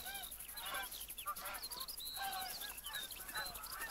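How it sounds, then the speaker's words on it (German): Geese in the hunting game theHunter: Call of the Wild give repeated overlapping honks, a flock calling steadily at moderate distance over a quiet outdoor field background. "kommen die Gänse."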